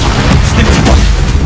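An Expulso spell explosion in the video game Hogwarts Legacy, a loud, dense booming blast that rumbles continuously through the whole short moment, heavy in the low end.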